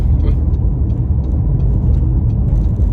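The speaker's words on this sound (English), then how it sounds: "bizarre traffic" Road traffic passes by, a steady, loud low rumble of vehicles with faint intermittent clicks and knocks riding on top, continuous with no pauses.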